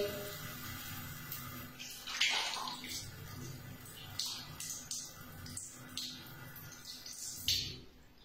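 Water splashes as cleansing gel is rinsed off the face during a cosmetic skincare routine, a steady close wash with bursts of splashing and dripping throughout.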